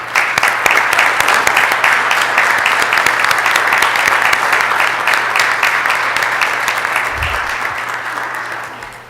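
City council meeting audience giving a round of applause, sustained dense clapping from a roomful of people at steady volume, tapering off gradually in the final seconds.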